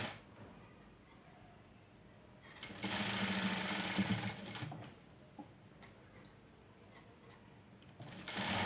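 Sewing machine putting a stitch through fabric pieces for a tassel: a short burst of close, rapid needle clatter lasting under two seconds between quieter handling noises, with a faint second start at the very end.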